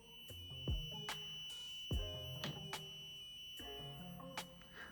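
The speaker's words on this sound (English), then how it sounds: "Okay, I didn't like that beep." Small electronic buzzer wired to 12V and ground on a workbench, sounding a string of short, sharp beeps in an uneven pattern, fairly faint but clear, with thin tonal chirps and clicks between them.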